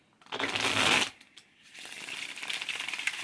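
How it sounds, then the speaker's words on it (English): Tarot cards being shuffled close by in one dense riffling burst, followed by quieter handling and card noise. "let me move this over so I can shuffle"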